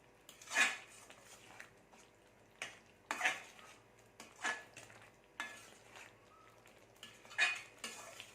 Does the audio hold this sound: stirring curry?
yes